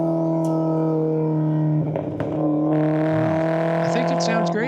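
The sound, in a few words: Italian classic car engine while driving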